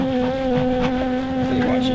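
Honey bees hum steadily around hive supers outdoors, a dense, loud, close buzz with no breaks and no talking.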